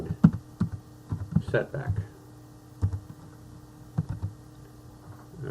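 Keys clack on a computer keyboard in scattered, uneven bursts at close range, with a soft hum beneath and a brief spoken word.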